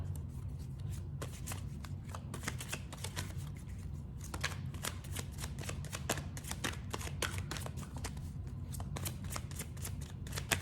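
A tarot deck being shuffled by hand, a rapid run of crisp riffling card flicks repeating in quick bursts, close and clear with no talking.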